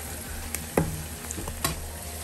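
Onions fry in oil for a grandmother's curry, a steady close sizzle with a few clinks and scrapes of stirring scattered over it, and nobody talking.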